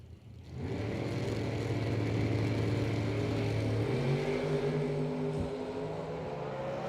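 Drag racing launch at a strip as a Camaro and a bright green Chevrolet S10 accelerate side by side, a loud sustained engine roar with rising revs that holds steady and strong throughout.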